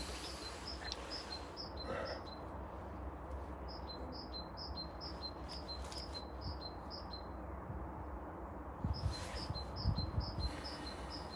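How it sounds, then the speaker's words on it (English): Several small birds chirp outdoors in short repeated high tweets, fairly clear over a steady low background rumble, with a brief louder disturbance near the end. "Can you hear the birds? I can hear the birds."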